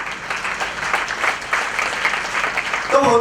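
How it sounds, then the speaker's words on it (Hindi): Dense, sustained applause from a large audience at a motivational group speech event, steady and loud throughout, with a voice starting to speak at the very end. "एक बार जबरदस्त तालियां चाहता हूं"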